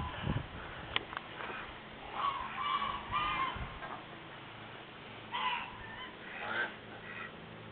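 Geese and ducks honking outdoors at a quiet rural spot, with a few separate bursts of nasal calls, moderately near, between stretches of low background noise and some handling bumps.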